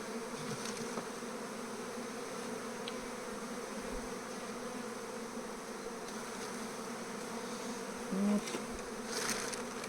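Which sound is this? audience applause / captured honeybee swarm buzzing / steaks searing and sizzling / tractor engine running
captured honeybee swarm buzzing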